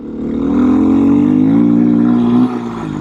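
Beta 390 RS Racer dirt bike engine running steadily while riding over gravel, a loud, continuous low drone that holds nearly even for most of the stretch before dipping briefly near the end.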